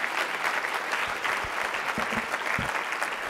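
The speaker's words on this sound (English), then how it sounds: "A big, big round of applause for Chef Rick Bayless" Audience applause for Chef Rick Bayless after his speech, dense sustained clapping from a large crowd at a steady level throughout.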